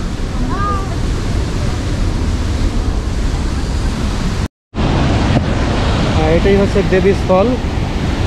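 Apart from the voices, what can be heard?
roar of the Devi's Fall waterfall in Pokhara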